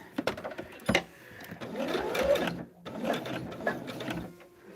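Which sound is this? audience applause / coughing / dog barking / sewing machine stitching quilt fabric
sewing machine stitching quilt fabric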